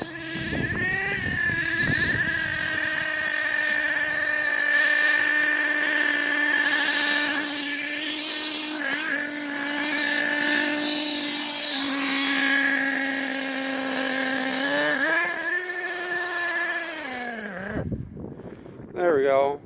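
An HPI Savage X 4.6 nitro RC car engine idles at a high, steady buzzing pitch, then revs briefly and cuts out near the end.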